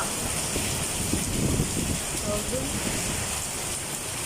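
Heavy typhoon rain in Sorsogon, Bicol pours down in a dense, steady hiss, with a low rumble and faint murmuring underneath.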